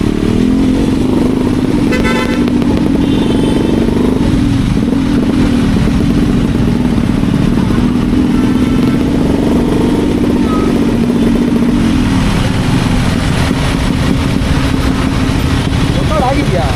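A Yamaha RX motorcycle's two-stroke engine runs loud and close throughout, holding a steady buzzing drone with rising revs near the end, while traffic and a horn sound around it.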